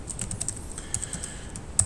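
Quick, irregular keystrokes on a computer keyboard, a steady run of light clicks with one sharper tap near the end, close up and alone.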